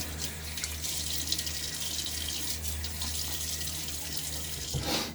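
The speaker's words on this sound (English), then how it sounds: "let's throw some face water on" Steady running water from a tap fills the clip at moderate level, with a low hum underneath and a brief louder splash of water onto a face near the end.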